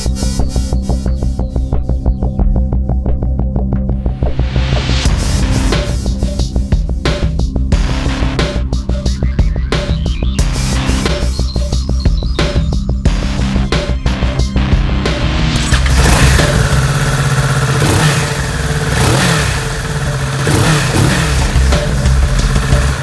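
A 2019 Kawasaki Z650 parallel twin 650 engine revs hard and repeatedly, climbing and dropping in pitch, then settles into a loud, steady rumble close by.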